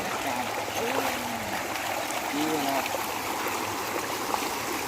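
Water pours steadily over the Kaeng Sao Noi waterfall weir in a continuous rushing wash, with someone speaking over it at intervals.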